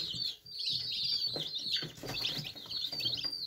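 Leghorn chickens clucking and cheeping close by over a steady high chirping background, continuous and busy throughout.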